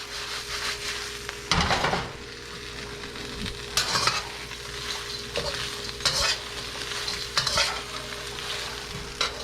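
Peanuts and seeds are tossed in a wok for dry fried chicken, giving a constant frying sizzle broken by several loud scraping, rattling tosses at irregular intervals.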